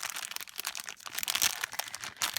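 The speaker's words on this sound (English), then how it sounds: "Sorry for the crinkling noise." Crinkly packaging rustles close up as felt jewelry pieces are grabbed and handled, giving a busy, irregular run of crackles and crumples with no voices.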